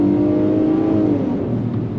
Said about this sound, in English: You can actually hear the V6 doing its thing.